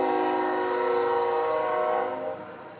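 A train horn sounds loudly and steadily for over two seconds as a train passes close by, then fades slightly at the end, with no talking.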